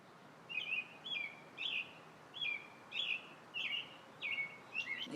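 A bird chirps about eight times in a fairly even rhythm, each chirp a short, bright, two-part call at moderate distance over a low steady background hiss.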